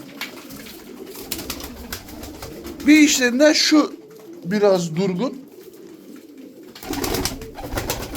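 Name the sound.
tumbler pigeons cooing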